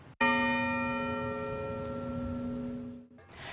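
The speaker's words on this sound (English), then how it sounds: "Bells rang out 32 times at the Virginia Capitol Square Bell Tower in Richmond" A single deep bell from the Virginia Capitol Square Bell Tower in Richmond strikes loud and close, its rich ringing tone sustaining and slowly fading for about three seconds before cutting off.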